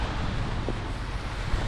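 Cold winter wind at a Canadian bus terminal on the first snowy morning, a steady broadband rush with low rumble buffeting the microphone, continuous and fairly loud with no voices.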